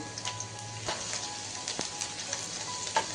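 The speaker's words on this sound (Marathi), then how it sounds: "अगोदर तेल गरम म्हणू त्यानंतर लसण टाकू आपण" Garlic frying in hot oil in a kadhai for a Chicken 65 tadka, a steady close sizzle and crackle with small pops, quiet and without speech.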